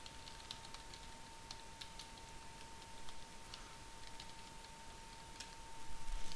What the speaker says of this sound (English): you can see that was substantially more typing